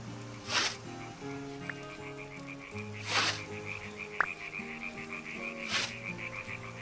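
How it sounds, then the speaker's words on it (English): Frogs croak steadily across an ambient Minecraft soundscape, fairly loud, with three broad noisy swells recurring about every two and a half seconds and a brief sharp click near the end; no one speaks. "I find the frogs are a little bit too loud."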